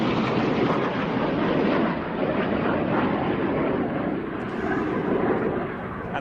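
An aerobatic display team's aircraft pass in formation trailing smoke at the Royal International Air Tattoo 2022, a loud, broad, continuous jet roar that swells and eases slightly with no voice over it.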